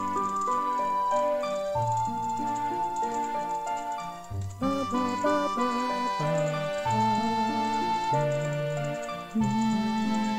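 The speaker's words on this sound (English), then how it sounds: "And this is the Song of Awakening." Song of Awakening played on pipes in the Zelda game Majora's Mask, a short melodic tune of sustained reedy notes with chiming accompaniment, clear and continuous with no talking.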